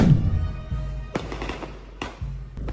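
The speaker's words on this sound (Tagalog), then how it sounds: "Pinakinang ng fireworks display ang pagdiriwang ng linggo ng muling pagkabuhay ni Jesucristo" Fireworks burst at an Easter Sunday celebration at the Grotto of Kamay ni Hesus in the Philippines, a few loud booming explosions with rumbling low tails, spaced about a second apart.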